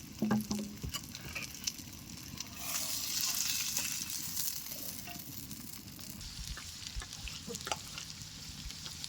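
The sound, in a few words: rohu fish pieces frying in a pan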